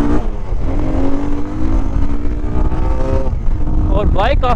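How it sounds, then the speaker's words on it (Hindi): A motorbike roars at speed on an off-road ride, its engine note climbing in steady harmonic sweeps, loud and close throughout, with a brief rising rev near the end. "बाइक काफी भाग रही है"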